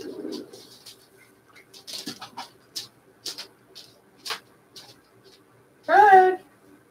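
A newly acquired pet dove or pigeon gives a loud, close coo near the end, after a stretch of quiet scattered ticks and soft scuffing sounds.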